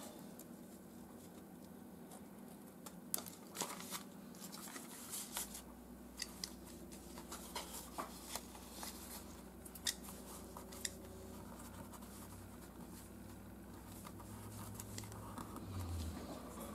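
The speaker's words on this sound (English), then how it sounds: "I'm just gonna cut that bit off" Scissors snip paper to cut a picture out for a collage glue book cover, with sharp, irregular close clicks over a faint steady background hum.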